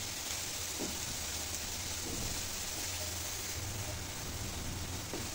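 Onion, garlic, salt and turmeric fry in a pan with a dense, steady hiss and crackle of sizzling oil throughout, while faint stirring scrapes show up now and then.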